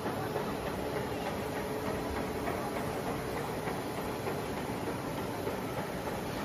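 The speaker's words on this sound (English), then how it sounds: "This pipe making machine uses needle bearings in horizontal stand." A stainless steel pipe making machine with needle-bearing horizontal stands runs continuously as it produces 22 mm pipe, a dense, steady mechanical clatter and hum heard at moderate distance with no pauses.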